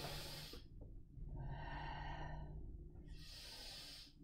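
Breath pushed out through the mouth during a children's exercise class breathing drill: two soft, airy exhales, one at the start and one near the end, with a quieter stretch between.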